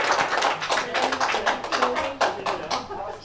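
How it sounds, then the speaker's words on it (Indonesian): An audience at an organizational orientation gathering claps, a dense run of hand claps with uneven sharp taps, moderately loud and close, with some talk mixed in. "Tepuk tangan ya."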